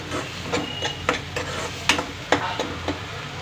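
Vegetables fry in a pan for a ridge gourd and prawn curry. A soft sizzle runs throughout, broken by repeated sharp scrapes of stirring at irregular intervals, close by and with no talk.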